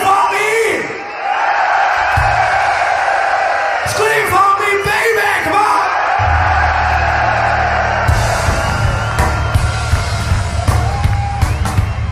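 Large crowd at a rock festival yelling and cheering in answer to a singer, a broad roar that swells and stays loud, with whoops and shouts over band noise and a voice on a microphone.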